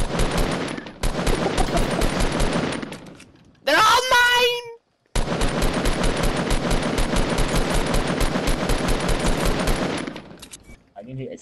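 Rapid automatic gunfire in the Fortnite video game, two long dense bursts of shots split by a short pause, loud and close, with voices speaking over it.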